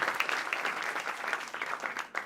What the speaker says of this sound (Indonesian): Boleh tepuk tangan buat kalian semua yang meriah dong.